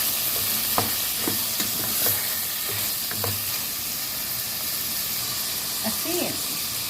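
Shrimp sizzle and sauté in a hot pan, giving a steady, close frying hiss broken by scraping stirs, with a voice speaking briefly near the end.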